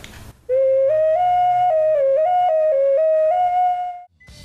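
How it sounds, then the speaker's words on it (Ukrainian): A clay toy whistle plays a bright, clear, wavering melody of shifting pitches, sustained for several seconds, alone and close. "В неї принцип свистка є, і вона може такі от речі виробляти."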